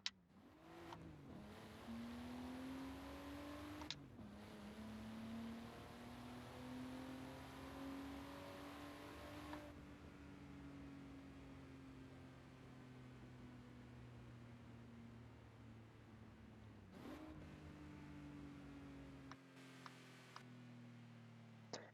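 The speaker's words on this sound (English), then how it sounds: "if I go into first person, the sound of this Supra." A Toyota Supra engine in a racing video game, heard from the first-person view: a steady, fairly quiet drone holding at low revs, with a couple of brief shifts in pitch and no talk over it.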